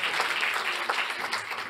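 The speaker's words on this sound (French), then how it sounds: "on peut les applaudir" An audience at an insurance awards ceremony applauds the winners, a fairly soft but continuous patter of many hands clapping together.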